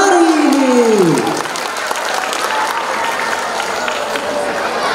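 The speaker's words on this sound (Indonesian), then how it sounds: "Mari kita beri tepuk tangan yang meriah untuk semua hadirin yang berserta pentas seni hari ini" An audience at a school arts performance applauds loudly and steadily, a dense wash of clapping that swells in after a descending tone fades out, with crowd noise mixed in.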